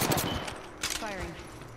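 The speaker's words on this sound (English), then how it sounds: "Shots fired." Video game gunfire erupts in two short bursts, a loud crackle at the start and another just under a second later, with a voice heard between and after them.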